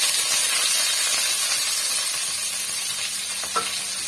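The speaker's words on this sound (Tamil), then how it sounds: "பாருங்க கடுகு சீரகம் நல்லா பொறிஞ்சு வந்துடுச்சு" Onion and curry leaves fry in hot oil with spluttered mustard seeds and cumin, making a loud, steady, close sizzle with a brief crackle near the end.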